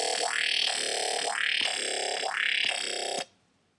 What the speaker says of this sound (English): we're going to be looking at the growl from Centipede